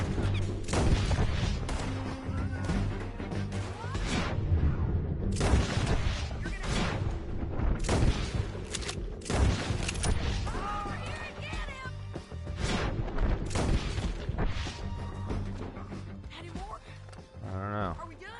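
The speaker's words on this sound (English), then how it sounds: "Now we'll get back to shooting." Repeated bursts of gunfire in a Western action game, sharp loud cracks in clusters with short gaps between volleys, over a continuous rumble of background noise.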